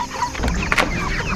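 Cornish cross meat chickens clucking up close, a few short clucks and a brief sharp squawk over a constant rustling background.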